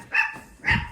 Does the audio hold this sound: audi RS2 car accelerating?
no